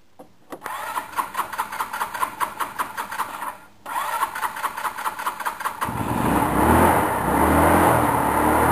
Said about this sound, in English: now I'll go ahead and put the fuel line back on and start it.